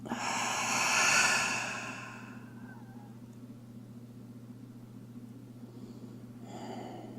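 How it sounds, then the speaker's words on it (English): Slow, deep breathing in a yoga class: a long, airy exhale swells over the first two seconds and fades out, a quieter breath returns near the end, and a low steady room hum runs underneath. "Full breath in. Make space. Full breath out."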